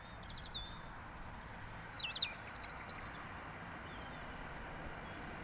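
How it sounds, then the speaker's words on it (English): European robin singing from gorse bushes in the New Forest, short faint high warbling phrases heard at a distance over a constant low background rumble. "Then there's a robin singing on some"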